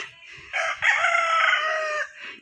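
A single rooster crows loudly and close by, one long drawn-out call lasting about two seconds.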